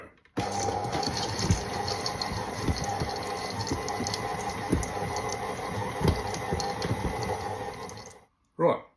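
KitchenAid stand mixer mixing mortadella meat, a steady close motor whir with rhythmic knocking and thumping from the beater running for about eight seconds before stopping, with a brief bump at the end.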